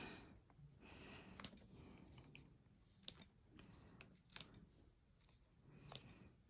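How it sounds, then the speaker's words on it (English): Scissors snip thread tails off a lined fabric appliqué zip bag: four crisp, isolated snips spaced roughly a second and a half apart, quiet and close, with soft handling rustle between them. "So we're just going to trim some of these off just to clean it up a bit."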